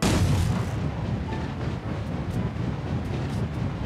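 In the video game Sausage Man, a player is fired out of a cannon as the projectile. A loud, booming blast opens the sound and is followed by a sustained rumbling whoosh that carries on steadily to the end, with no talking over it.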